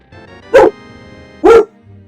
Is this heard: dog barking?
yes